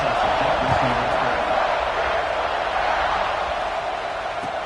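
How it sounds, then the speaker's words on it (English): Stadium crowd in the NCAA 26 college football video game buzzing after a score and extra point: a dense, steady roar of many voices that holds loud throughout and eases slightly near the end. "this crowd is buzzing after that last score"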